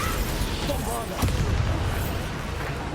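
The Bombarda blasting spell explodes in the Hogwarts Legacy video game, a boom with a short burst in the middle over continuous low rumbling game noise.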